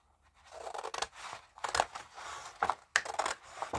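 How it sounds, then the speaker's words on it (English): Scissors snipping through a paper journal card, several separate close cuts with short crunchy bursts spaced unevenly, alone without talk. "I'm going to cut that out."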